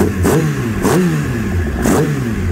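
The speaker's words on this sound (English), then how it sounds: "It revs nice." A motorcycle engine revs up three times in quick bursts over a rumbling idle, loud and close.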